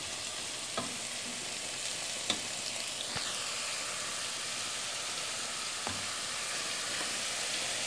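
Vegetables for Brazilian-style salt cod with pineapple sizzle quietly in a pan, a soft, steady frying hiss broken by a few faint clicks of a utensil against the pan.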